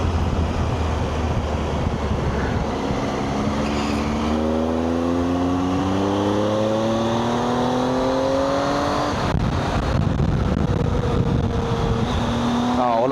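A Triumph Tiger 800 motorcycle riding through a winding ghat section on a Kaup to Goa trip: steady engine drone with rising and falling revs as it shifts gears, loud and close, with wind rush over the microphone.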